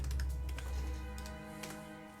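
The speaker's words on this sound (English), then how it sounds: "Typing it on roll 20." A computer keyboard clicks in scattered, irregular bursts of keystrokes during a tabletop game session, quiet and close, with a low steady hum underneath and no talking.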